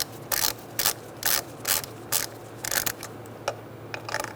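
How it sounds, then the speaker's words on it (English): An 8mm socket on a ratchet loosens the ignition coil bolts on a 2000-2007 Ford Taurus 3.0L V6, producing a rapid series of close, crisp ratcheting clicks in short repeated bursts. "Use your 8mm socket once again. Loosen up these two on this side."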